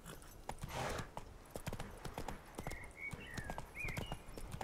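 Hooves of Geralt's horse Roach clip-clop steadily along in The Witcher 3, a close, even walking rhythm with a few faint higher tones drifting in the background.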